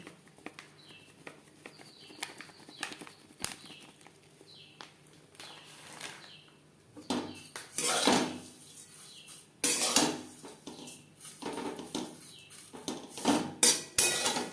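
Lachha semai vermicelli is stirred in a pan on a medium-low flame while powdered milk is added, with scattered metal-on-pan scrapes and clinks that grow louder and busier toward the end.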